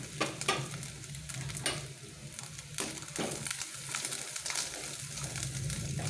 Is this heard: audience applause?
no